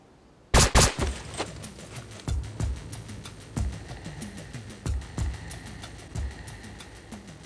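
Gunfire during an assault on airport guards: a loud burst of shots, then a series of sharp reports at irregular intervals, echoing against steady background noise.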